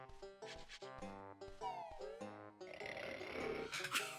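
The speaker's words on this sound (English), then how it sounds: "I snore like that every day" Banjo the bear snoring in the Banjo-Kazooie game on Xbox 360, a cartoonish, wobbly snore rising and falling over bouncy, tuneful game music and sound effects.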